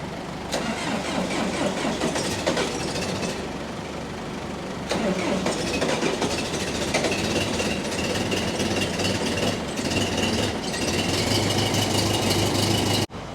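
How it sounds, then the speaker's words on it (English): Several diesel tractors, including a John Deere 2640, idle together on a chilly day after warming up, a steady loud rumbling drone with engine knocking, one engine dropping out near the end. "So now that we got all those diesels warmed up"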